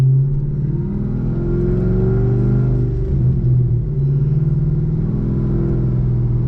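A cammed Pontiac G8 GT V8 making a wide-open-throttle pull up to third gear, a loud, steady low engine rumble heard from inside the car for several seconds with a small dip around a shift.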